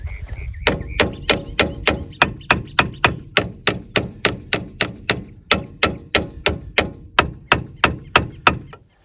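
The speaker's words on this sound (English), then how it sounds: "let's get a pry bar out" Metal pry bar and hammer strikes working a stuck wheel loose from the brake pads on a 1980 K10 truck, about twenty sharp, evenly spaced metallic whacks in a steady rhythm, loud and close with no talking.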